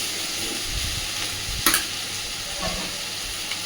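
Vegetables for a fish-roe chorchori fry in a pan as chili powder goes in, a close, steady sizzle with scraping stirs and one sharp clatter partway through.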